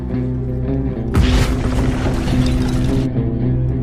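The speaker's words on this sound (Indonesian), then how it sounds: "Ballard meledakkan ruang penyimpanan bubuk hitam yang terkunci rapat" A sealed black powder storeroom explodes in a film scene, a sudden deep booming blast over a low droning score, with a roaring rumble that lingers about two seconds before fading back to the music.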